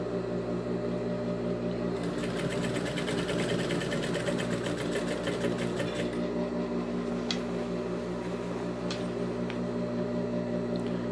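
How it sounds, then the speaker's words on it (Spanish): A sewing machine stitches a dress seam, its motor whirring steadily with a fast mechanical rattle of the needle that starts, runs for a few seconds and stops, over a constant low hum. "Hago un retroceso y voy a coser acá."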